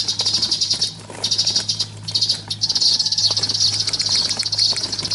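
A dense, continuous high chatter of young sparrows early in the season, heard outdoors in a steady shimmering wash with a few short gaps and faint ticking over a low hum.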